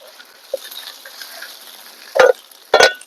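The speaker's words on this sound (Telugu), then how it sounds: "అల్లం వెల్లుల్లి పేస్ట్ వేసుకున్నాం ఇట్లా పచ్చివాసన పోయేదాకా ఇట్లా కలుపుకున్నాం" Ginger garlic paste fries quietly in a pan for a dry fish and spring onion curry, with soft sizzling and two loud, close scraping stirs near the end.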